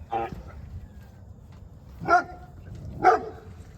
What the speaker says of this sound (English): my dog was Jack.